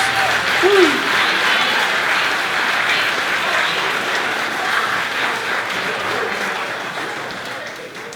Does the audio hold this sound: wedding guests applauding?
yes